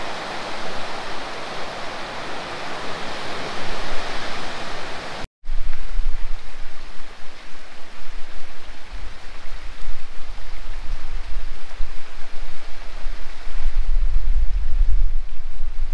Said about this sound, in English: the waves are coming in quite big now